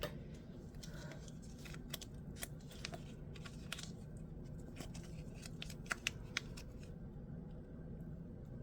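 Close, faint snips of scissors cutting open the plastic packaging of a crystallized zircon coin, a series of crisp clicks at irregular intervals over quiet room tone.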